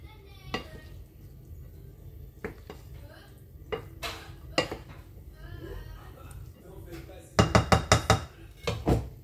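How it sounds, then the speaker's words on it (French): Cooked rice being stirred for a rice salad in a bowl, with scattered clinks and scrapes of a utensil, then a quick run of louder knocks near the end, with faint speech in the background. "je vais mettre au fur et à mesure mon riz que je mélange"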